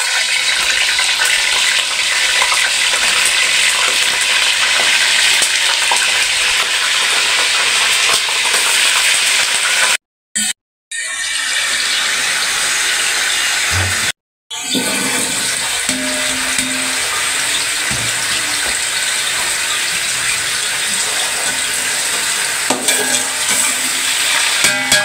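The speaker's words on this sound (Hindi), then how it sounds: "तो अभी मैं पहले चिकन को फ्राई करूँगी।" Chicken frying in hot oil, a loud continuous close sizzle with stirring noises, broken twice by brief silences, no voices.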